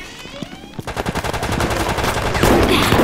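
Rapid automatic riot-gun and shotgun fire in the Resident Evil: Raccoon City co-op shooter, a fast run of loud, close blasts that builds into a dense, continuous burst of gunfire with other game effects underneath.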